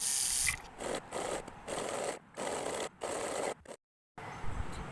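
A sewing machine stitches joined fabric strips for a runner made from leftover cloth, running in several mechanical bursts of rapid clatter separated by short pauses, close and fairly loud with no talking.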